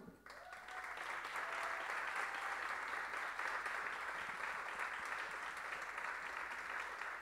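Audience applause at a state music composition award ceremony honouring Yucatecan trova songwriters, sustained even clapping from a large room that starts abruptly and continues steadily, somewhat distant and without talk.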